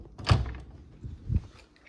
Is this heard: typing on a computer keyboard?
no